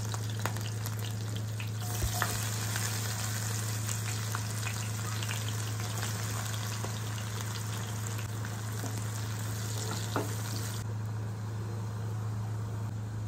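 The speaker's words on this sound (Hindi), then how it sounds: "तापर हमें एथिरे काटी रखिथिबा प्याज को पकेवा।" Chopped onions frying in oil in a pan for a mushroom curry, a loud continuous crackling sizzle with occasional stirring clinks and a low steady hum underneath.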